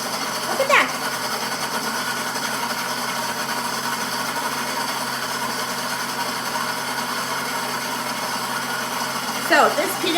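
A blender grinds peanut butter with a loud, steady whirring drone that runs throughout, with a couple of brief squeaky accents near the start and end.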